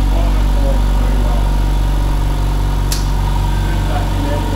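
Several motors run together in a loud, steady, droning hum with a throbbing low pulse, and a voice speaks over the engine noise.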